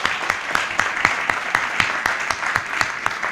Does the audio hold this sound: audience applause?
yes